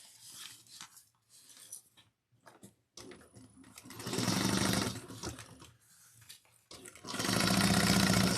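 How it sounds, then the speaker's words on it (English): A sewing machine understitches the seam allowance of a handbag lining in a few short bursts followed by longer steady runs of rapid stitching, close and loud with no talking. "we're going to understitch this, flipping the seam allowance towards the back"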